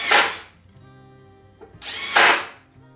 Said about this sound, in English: I then went through to each board and went ahead and did some countersink holes for the screw heads to sit down in